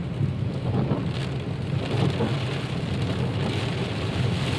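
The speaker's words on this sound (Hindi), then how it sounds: "बारिश बहुत ज़्यादा है" Heavy rain pours steadily in a dense, continuous hiss over a grain market in Medina, Saudi Arabia, with a faint low rumble beneath it.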